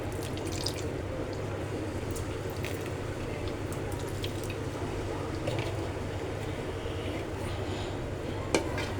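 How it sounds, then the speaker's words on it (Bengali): White vinegar goes into a raw mango oil pickle, a continuous close liquid pouring and bubbling wash that runs steadily throughout, with a soft splashy tick near the end. "এই হোয়াইট ভিনেগারটা আমি 3-4 টেবিল চামচের মতো দিব।"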